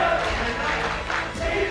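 Arena crowd at an MPL Indonesia Mobile Legends esports match between Bigetron and EVOS, a dense, loud roar of cheering voices sustained throughout, swelling slightly near the end.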